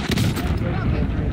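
Dense gunfire in a Call of Duty: Warzone duos match, a loud continuous barrage of overlapping shots with booming low end, close and heavy throughout.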